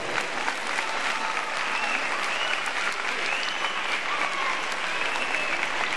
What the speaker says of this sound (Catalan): Per tots ells un fort aplaudiment